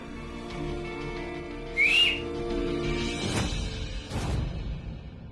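A person lying unconscious in a Hindi TV serial scene gives a short, sharp whistle, followed by soft rustling and whooshing movement over quiet background music.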